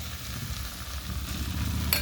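Fish fries with spices in a pan, producing a steady close sizzle and crackle with a brief sharper spatter near the end and no talking.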